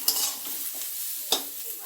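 Bitter gourd and potato curry seasoned with turmeric, salt and green chillies frying in a pan, a steady soft sizzle with occasional stirring scrapes, close and quiet with no talk.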